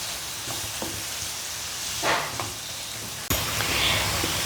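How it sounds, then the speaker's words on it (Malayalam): About four handfuls of chopped onions sauté in a hot pan, giving a steady close sizzle with occasional stirring scrapes and a sudden louder burst of frying near the end. "ഇത് നല്ലോണം വഴറ്റിയെടുക്കാം"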